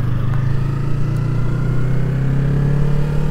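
A Yamaha R3 motorcycle engine on a ride in Los Angeles, a loud close steady drone holding one even pitch without breaks, with no talking over it.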